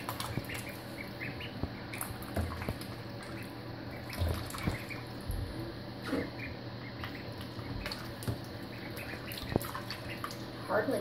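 Baby ducks splash and paddle in water during their first swim, with soft drips and small splashes over a steady background and faint chirps, scattered throughout.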